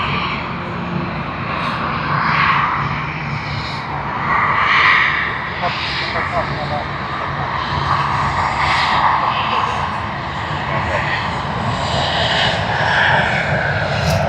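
A New Zealand airliner passes at Sydney Airport, its engines producing a loud sustained roar that swells and holds throughout, with people talking faintly beneath.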